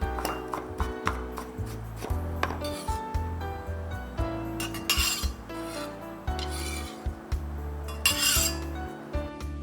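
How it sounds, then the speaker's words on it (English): A knife chops pickled ginger finely on a cutting board while preparing takoyaki: quick, close, repeated scraping and tapping strokes with clinks of kitchenware, steady and fairly loud throughout. "Chop pickled ginger finely."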